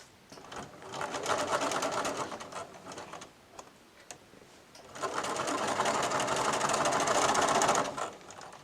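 A sewing machine stitches a straight-grain bias binding onto a patchwork quilt finish, sewing from corner to corner. It comes as two fairly loud bursts of rapid, steady stitching separated by a quieter pause, with no talking.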